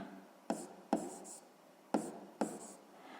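A pen writes on paper in four short bursts of scratchy strokes, each starting sharply and trailing off, quiet and close with pauses between.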